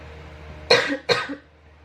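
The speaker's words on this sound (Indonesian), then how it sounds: "Sorry ya, batuk lagi." Two sharp coughs from one person come in quick succession, close and clear against a quiet background.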